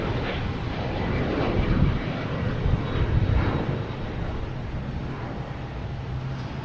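An Airbus A330 approaching to land at Boston Logan Airport roars loudly and continuously, its jet engine noise swelling and then holding steady as it passes.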